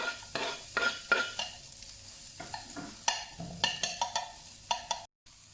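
Pine nuts and red onions sizzle and fry in a pan, with repeated scraping stirs in a steady rhythm, close and moderately loud, then a brief cut to silence near the end.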